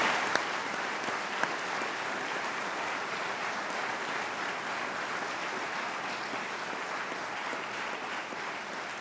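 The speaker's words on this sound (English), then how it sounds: "I ask you to give them a round of applause" A crowd at a police recruit graduation ceremony applauds steadily for several seconds, a dense even clatter of clapping that holds without fading.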